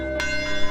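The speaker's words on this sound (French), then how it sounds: "la même cloche qui sonna ce certain dimanche matin il y a 71 ans, appelant les croyants à venir assister au service, sonne toujours fidèlement actuellement" A single struck church bell at Branham Tabernacle in Jeffersonville, USA, ringing with a sustained, rich metallic hum of layered overtones, loud and close, a fresh strike blooming over the lingering tone.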